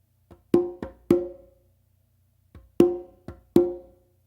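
Conga drum strikes in a ghost-note and open-tone pattern, heard twice: a soft touch then three sharp resonant hits, a pause, and the same four-stroke phrase again, close and clear with no talking.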